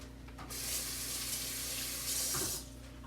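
Hands being washed under a running kitchen tap while cooking, giving a close, steady rush of water about two seconds long with slight splashing changes as the hands move, and no talking.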